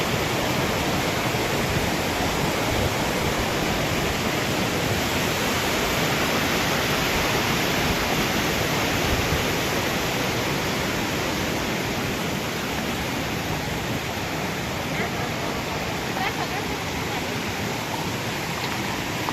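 Loud, constant rushing roar of falling water at Hathni Mata waterfall, steady and unbroken throughout, like standing close to the falls.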